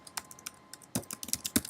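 Rapid keystrokes on a computer keyboard while entering code in an iOS programming session, a close, fairly quiet burst of irregular clicks that thickens into quicker, louder taps toward the end, with no voices.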